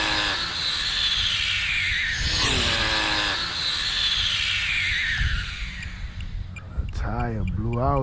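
An Exceed Mad Drift 1/8 scale RC drift car runs close by, its motor whining loudly and sweeping up and down in pitch as it revs and slides, with a rougher stretch near the end.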